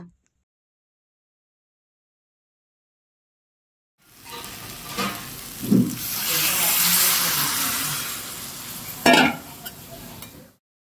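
Lentils (dal) being mixed in a cooking pot give a soft, broadband scraping and stirring sound with a few sharper knocks against the pot. The sound begins after several seconds of silence and holds steady at moderate loudness.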